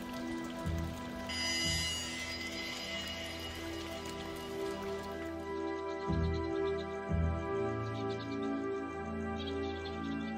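Steady rain falls in a Thai forest where flying foxes roost, a constant soft patter on leaves, with faint bird chirps and low tonal hum beneath.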